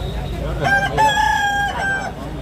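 A rooster crows once at a poultry market, close and loud, its drawn-out call rising over a low murmur of background noise.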